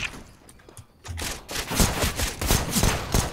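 Rapid gunfire from Counter-Strike: Global Offensive crackles in loud repeated bursts after a quieter first second, the shots coming close together as a fusillade with no clear speech.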